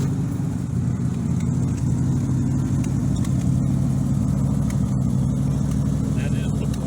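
A 1972 AMC Javelin AMX with a 401 V8 and Trendsetter exhaust idles steadily, giving a deep, continuous rumble that stays even throughout, with a voice talking over it.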